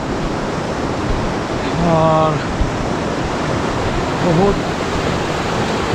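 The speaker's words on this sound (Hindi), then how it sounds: "पानी का शोर आपको आ रहा होगा" Rushing river water near Bajaldar village in Leepa Valley, Azad Kashmir, a steady broadband roar filling the scene, with a voice briefly speaking over it.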